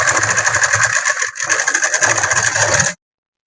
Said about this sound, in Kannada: ಪೂರ್ತಿ ಸುತ್ತಲಿಗೂ ಕೂಡ ಇವಾಗ ಹೊಲ್ಕೊಂಡ್ ಬರೋಣ ನಾವು